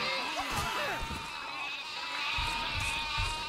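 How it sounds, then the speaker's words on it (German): Sheep in the video game Overlord: Raising Hell bleat several times in quick, close calls over a steady background hum of game music and ambience. "hier gibt es massenhaft Schafe und einen Bauer, der sie hütet"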